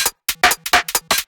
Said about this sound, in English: And Bit is a bit crusher by Native Instruments.